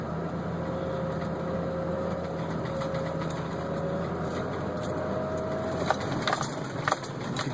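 A car engine holds a steady drone while it revs in low gear along a wooded dirt road, under continuous rumble and road noise, with a few light knocks near the end.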